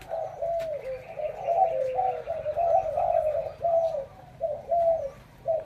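Pigeons in a large cage coo repeatedly in a steady low rhythm, close and fairly loud, with a few faint chirps but no clear wingbeats.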